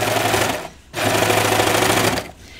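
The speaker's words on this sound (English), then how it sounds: "I'm sewing from the inside of the circle." A sewing machine stitches jeans fabric in a steady, fast, close mechanical whir, running in two long bursts split by a short pause and dropping off near the end.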